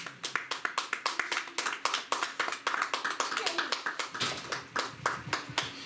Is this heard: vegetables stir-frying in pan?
no